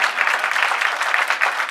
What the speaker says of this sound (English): That was a good place to clap.